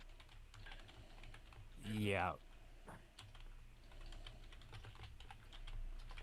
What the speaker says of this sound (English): The sounds of furious typing in the background.